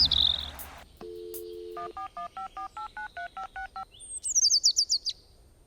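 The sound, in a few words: phone dialing a call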